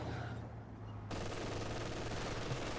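Heavy machine guns rattle in a World War II real-time strategy battle game, giving dense, continuous rapid fire that swells louder partway through.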